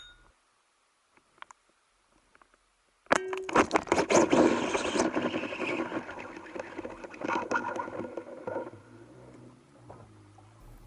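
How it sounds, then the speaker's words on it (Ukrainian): A sudden fast whirring, ratcheting rush of a fishing reel's line unspooling bursts in after about three seconds of near silence, loud and busy at first, then tapering into a steadier buzz. "це звук катушки, яка зі швидкістю розмотується"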